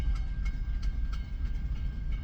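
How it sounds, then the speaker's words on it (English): Long freight train creeping past at about five miles an hour, a steady low rumble with faint rhythmic wheel clicks and squeals, continuous and fairly close with no voices. "This 10-mile long train is going 5 miles an hour"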